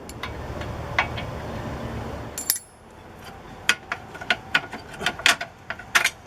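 A ratchet with an adapter works a small 11 mm bolt on an Aliner A-frame pop-up camper, giving a run of sharp, close clicks after a brief stretch of louder low rumble.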